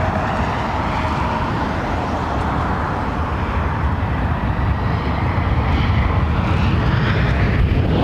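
A large airliner landing at London Heathrow Airport gives a continuous, loud, broad roar of engines and rushing air around the undercarriage, steady for several seconds and slowly growing, with no talk.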